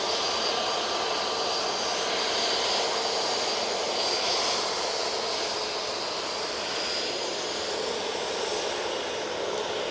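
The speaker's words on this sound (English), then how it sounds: "Let's get this EasyJet." EasyJet airliner departing Manchester Airport bound for Porto, a loud continuous jet roar with broad hiss holding steady near the field, no voices.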